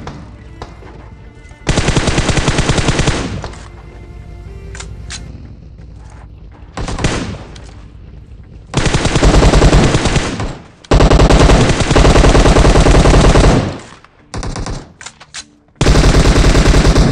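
Heavy automatic gunfire from two bots fighting in PUBG Mobile comes in long, loud bursts separated by quieter stretches of distant shooting, with no talk over it.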